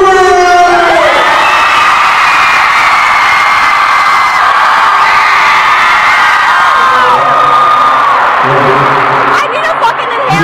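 A large concert crowd screams and cheers continuously and loudly, with high-pitched shrieks and whoops rising and overlapping throughout.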